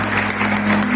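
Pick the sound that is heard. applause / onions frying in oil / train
applause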